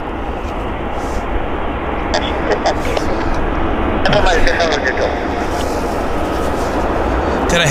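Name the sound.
heavy airliner on approach to Vancouver YVR airport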